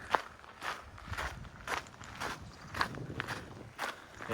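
Shoes crunching steadily along a bog nature trail, regular footsteps at walking pace, close but quiet, with faint outdoor ambience behind them.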